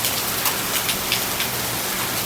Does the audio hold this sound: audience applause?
no